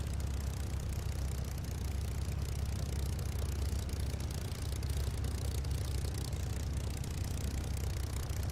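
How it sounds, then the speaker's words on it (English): A steady, throaty Merlin aircraft engine in a flight simulator game drones on without a break, a dense low rumble that neither rises nor fades. "there's that engine, that Merlin sound"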